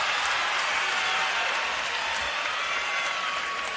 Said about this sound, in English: The Trinity crowd erupts here.